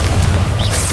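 A Confringo spell blast in the video game Hogwarts Legacy booms low and heavy, filling the whole second with a dense rumbling explosion and a faint rising whoosh near the end.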